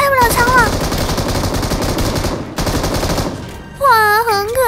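Rapid automatic rifle fire from an AK in a first-person shooting video game, loud close bursts of gunshots running continuously, then a short pause before more shots, with electronic whistling game effects at the start and end.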